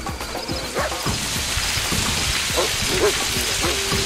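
Rain sound effect from the XIII remake video game, a steady hiss of rainfall with scattered clicks and small thuds layered over it, constant and fairly loud, no voices.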